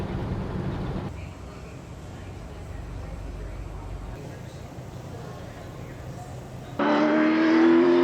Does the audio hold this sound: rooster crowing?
no